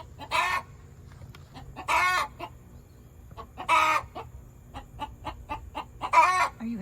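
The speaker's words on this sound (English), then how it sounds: "Chicken's happy." Hens clucking and cackling inside a backyard chicken coop, loud bursts repeated about four times with softer clucks between, fairly close, with no talk.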